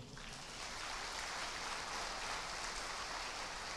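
Church congregation at a Brazilian Portuguese service applauding, a dense, even wash of clapping that holds steady throughout, fairly faint and without any voices over it.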